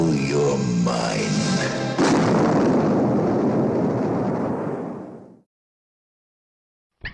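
A laser blast in a stop-motion animated monster movie trailer hits hard after a brief stretch of voice-over talk, then fades slowly over several seconds into silence.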